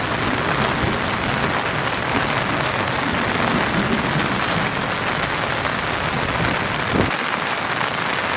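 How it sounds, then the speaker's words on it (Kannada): Heavy rain pours down at Manchi waterfall, a dense, loud, continuous hiss of drops pounding surfaces, with a brief low thump near the end; no voices are heard. "ಗುಡುಗೆಲ್ಲ ಬರ್ತಾ ಉಂಟು ಫುಲ್ ಮಳೆ ಸಹ ಜೋರು ಬರ್ತಾ ಉಂಟು"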